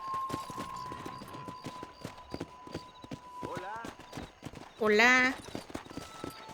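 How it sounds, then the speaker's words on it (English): Galloping horse in the Red Dead Redemption video game, with rapid steady hoofbeats throughout under game ambience and a loud whinny near the end, while a person speaks over it. "Então vamos bater uma corrida aqui de cavalo."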